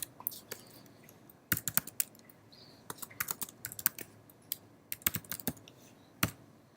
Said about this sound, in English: Just typing it again.